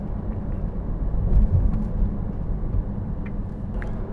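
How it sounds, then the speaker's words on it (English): Ferrari 296 GTB hybrid cruising in full electric mode, with only a low, steady road and tire rumble and faint cabin hum, near and smooth with no engine note. "So in normal driving mode in the electric drivetrain, very quiet, very EV-like."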